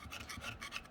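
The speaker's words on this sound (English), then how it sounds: "If there's any debris or sap or any of that stuff that gets kind of caked on here, just scrape it off." A blade of a Felco 13 hand pruner is scraped clean of dried sap and debris, giving a short, close, dry rasping scrape in quick repeated strokes with no talking.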